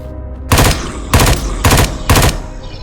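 Automatic weapon in the retro shooter SpacePunk fires four loud, rapid bursts in quick succession, each a sharp rattling volley separated by short gaps, with no talking over it.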